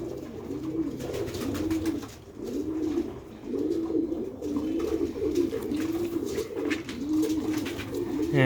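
Old Sialkoti pigeons cooing, a series of soft, repeated low coos in steady rhythm, close by, with faint background noise and no talking.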